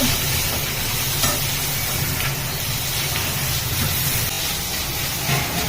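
Onions with ginger paste and salt simmering over a low flame for an onion curry, giving a dense, steady hiss and bubbling that fills the clip at close range, with a few faint knocks and no voices.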